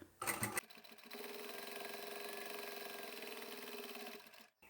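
An electric sewing machine stitches along the bottom of fabric while making lipstick holders, a fast steady whir running for about three seconds at close range, after a short burst of louder mechanical noise at the start.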